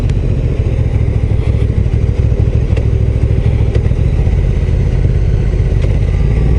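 A Honda NT 1100 DCT motorcycle runs loud and close in manual mode, its engine rumbling steadily with a dense low throb and faint mechanical clatter as a gear is shifted.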